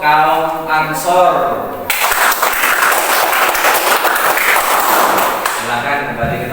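Applause from a classroom of students honoring a presenting student group, steady broadband clapping that sustains for several seconds after a brief stretch of voices, then tapers as talk resumes.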